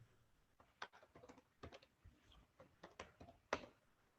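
Typing on a computer keyboard: quick irregular key clicks and taps in short bursts, close and fairly quiet, with no talking over them.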